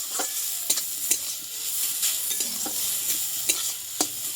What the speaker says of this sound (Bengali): আলুটা আমি একটু এর সঙ্গে একটু ভেজে নেবো